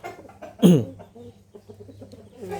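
A Burmese fighting rooster named Phan Saeng gives one loud, harsh squawk near the start, followed by softer clucks and rustling close by.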